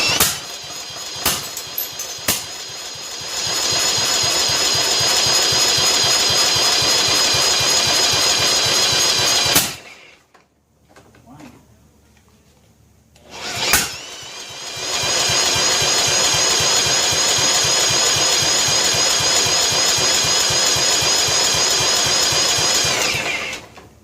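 Small engine on a John Deere STX38 lawn tractor with a backfiring fault, running loud and steady with a rough, rapid chugging, cutting out briefly for a few seconds before roaring back up to a sustained drone.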